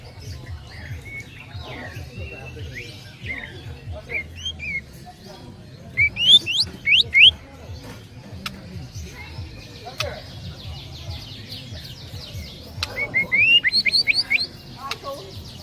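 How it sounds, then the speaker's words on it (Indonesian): A canary sings in bursts of quick chirps and rising trills over a low rumbling background, with a few louder phrases standing out near the middle and end. "Untuk kenari."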